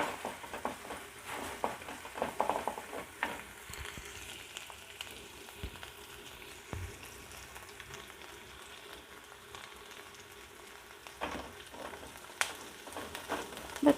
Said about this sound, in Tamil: இந்த கருவேப்பிலை சேர்த்து நல்லா வதங்கிக்கிட்டு இருக்கு.